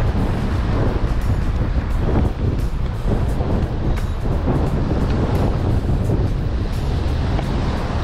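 Strong headwind on a shore during a typhoon, with white-capped surf nearby: a loud, constant roar of wind buffeting the microphone over rumbling waves, with no talking.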